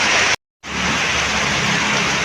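Rain falling outdoors as a steady dense hiss, briefly cut by a short gap of silence before continuing evenly.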